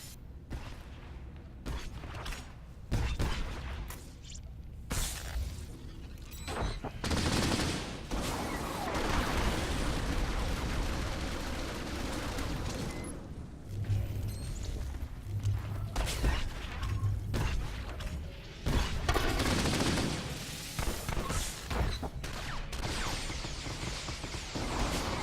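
Gunfire in Star Wars: The Old Republic, bursts of blaster shots and impacts recurring in uneven clusters over the whole stretch alongside other clattering game effects, at moderate loudness.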